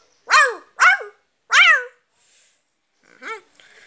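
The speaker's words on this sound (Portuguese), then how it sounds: "E de longe se ouvia o latir dos cachorros." Three loud, sharp dog barks in quick succession, a short pause, then a fainter bark; close and clear, no talking.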